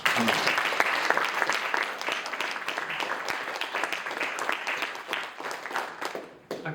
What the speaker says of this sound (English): if we could all have a round of applause for our graduates